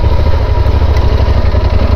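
A Yamaha Super Tenere motorcycle engine idles close up, a loud, steady low throbbing rumble with even pulsing and no talk.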